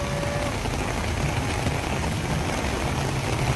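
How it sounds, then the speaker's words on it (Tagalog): A dense, steady wash of heavy rain pours down at Harbour Square on Manila Bay with no letup, with a low rumble like an engine idling somewhere beneath it. "Ay grabe, lumalakas ng ulan."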